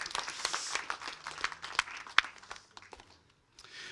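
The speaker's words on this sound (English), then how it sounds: "A round of applause for the ring bearer" Wedding guests applaud the ring bearer, a scattered, moderately faint round of clapping with a few sharper individual claps, tapering off into quiet toward the end.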